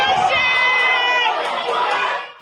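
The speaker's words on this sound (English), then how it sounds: "Cumberland High School teachers cheering on the school's sole competitor at the 2026 Issa Grace Kennedy Boys and Girls Championships" A small group of Cumberland High School teachers cheer and shout at the 2026 ISSA Grace Kennedy Boys and Girls Championships, excited high voices ringing out loudly and briefly amid crowd chatter.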